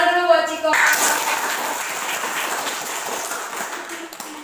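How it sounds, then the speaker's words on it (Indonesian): Children in a primary school classroom break into a burst of clapping for a classmate after a brief voice, the applause loud and dense at first and then tapering off over a few seconds. "tepuk tangan dulu buat Ciko"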